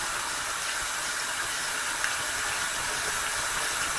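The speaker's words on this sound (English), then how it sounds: "Now I have to wash my hands. Warm to hot water." Warm to hot tap water runs steadily into a sink during handwashing, a constant even hiss with no voices.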